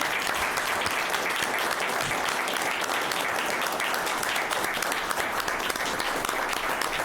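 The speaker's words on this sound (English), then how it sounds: "now we can applaud." Sustained applause fills a select board meeting room, a dense, even clapping from the gathered attendees lasting several seconds without pause.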